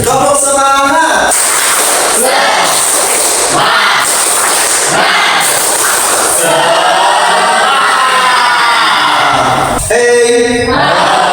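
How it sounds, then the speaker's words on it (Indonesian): A crowd repeats the rhythmic 'tepuk semangat' clapping chant during an ice-breaker, loud patterned bursts of claps and shouts close up, ending with a brief voice at the end. "Lagi dong lagi. Tepuk semangat."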